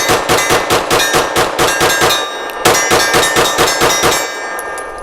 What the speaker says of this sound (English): I will be aiming at the steel generally, but what we're looking to see is how the gun cycles with a fully stuffed extended mag